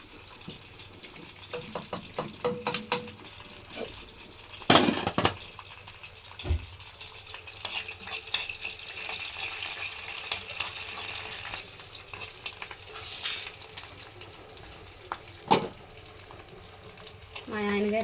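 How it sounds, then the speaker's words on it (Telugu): Tempering spices for chutney sizzling and crackling in hot oil, a steady frying hiss with scattered sharp pops and a few stirring clatters, close by. "దీన్ని ఇప్పుడు తాలింపు అయితే పెట్టుకుంటున్నాను"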